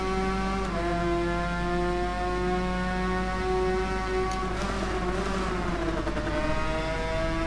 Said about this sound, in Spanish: Como se ha embalado la moto.